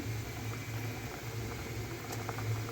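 Fish curry with fried fish, drumsticks and lentil dumplings simmering in a pan, giving a steady close bubbling with a low hum underneath and faint ticks throughout.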